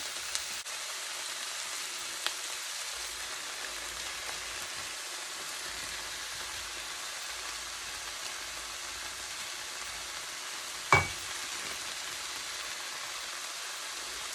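Ground beef with garlic frying in a pan, a soft, even sizzle like light rain held steady throughout, with one sharp clack near the end.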